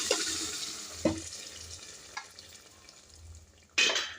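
Homemade gojju sauce goes into a pan of vegetables. A faint, steady sizzle runs throughout, broken by a few short stirring scrapes and a louder burst of sizzling near the end.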